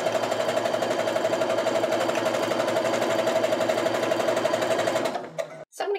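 A sewing machine chain stitches half square triangle quilt pieces in one loud, continuous close-up run that stops abruptly near the end, followed by a few brief handling knocks.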